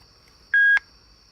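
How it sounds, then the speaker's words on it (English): A VXDiag VCX Nano scan tool emulating a GM Tech2 gives two short electronic startup beeps in quick succession, loud and clear against a faint background hum, with no talking. "Beeps just like a real Tech2."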